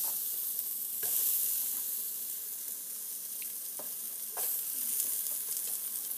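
Chilies roast in a pan for shredded beef, giving a steady close sizzle with occasional sharp crackles and stirring scrapes throughout, and no voices.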